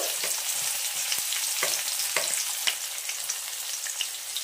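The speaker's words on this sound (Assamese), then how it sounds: "এখিলা তেজপাত দুটুকুৰা দালচেনি আৰু দুটা ইলাচি আৰু দুটা লং এনেকে গৰম মছলা গোটা গৰম মছলা দি দিছো এটা পিয়াজ দিছো" Onion added to hot oil with whole garam masala (bay leaf, cinnamon, cardamom, cloves) and cumin sizzles steadily, with a few stirring scrapes and clicks breaking through the constant close frying hiss.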